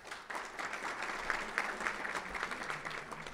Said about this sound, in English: You always get the biggest applause.